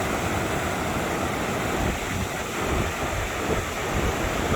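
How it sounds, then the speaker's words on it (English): River rapids in Kings Canyon rush in a continuous broadband roar, steady and fairly close, with wind buffeting the microphone and no voices. "Just saw these rapids on the way through"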